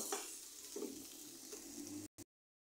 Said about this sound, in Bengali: একটু হালকা করে তেলের উপরে ভেজে নিব।